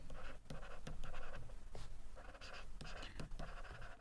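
Pen or marker writing on a board or notes during a paediatrics lecture, a close run of quick scratchy strokes with short pauses between them and no talk.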